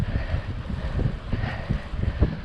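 Steady wind buffeting a bike-mounted camera while cycling into a cold ocean breeze along Venice Beach, a dense low rumble with gusty surges and faint surf wash behind it.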